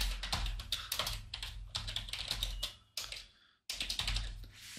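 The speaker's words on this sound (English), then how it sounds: "and I could type something here" Someone types on a computer keyboard in bursts of quick, close clicking keystrokes, with a brief pause before the tapping resumes.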